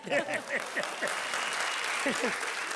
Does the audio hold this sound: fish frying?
no